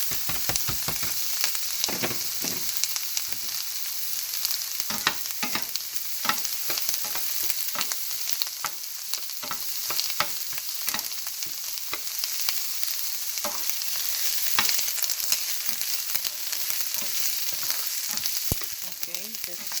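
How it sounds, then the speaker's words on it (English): Garlic fries in a pan with a steady close sizzle and crackle, broken by occasional stirring scrapes and knocks. "keep on until the garlic is a little bit cooked. We don't want it burned."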